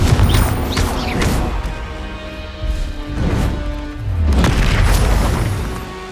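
Confringo spell explosions in the Hogwarts Legacy video game, a loud series of deep booming blasts and crashes rolling one after another, close and heavy, with rumbling tails between the bursts.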